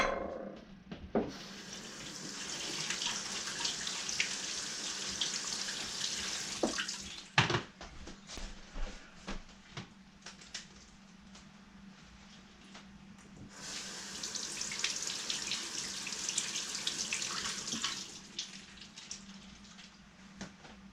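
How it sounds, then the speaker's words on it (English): Kitchen tap water runs steadily over freshly collected silkie chicken eggs being rinsed, a close, continuous hiss that cuts off and resumes, with a few clunks as the eggs are handled and no talking. "So now I'll rinse the eggs off."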